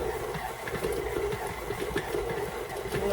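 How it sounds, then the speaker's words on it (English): A stand mixer with a side-scraping paddle churns cookie dough in a steady, fairly quiet motor hum with soft rhythmic knocks of the paddle, unbroken throughout. "look how that new paddle is scraping the sides"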